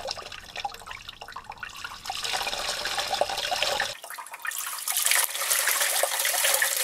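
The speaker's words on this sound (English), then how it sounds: "Now just gently pour." Water gently poured over an automotive drum brake assembly into a bucket, a steady close splashing and trickling that runs throughout and grows brighter and louder partway through, with no voices.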